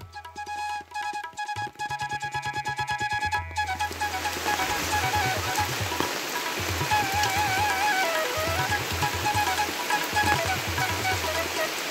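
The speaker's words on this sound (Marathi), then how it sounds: "आता पाऊस वाढायला लागलाय." Heavy rain falling at a small village temple in Shevare, Devgad, Sindhudurg, building into a dense, continuous hiss after a few seconds, with tonal sounds and low rhythmic thumps running beneath.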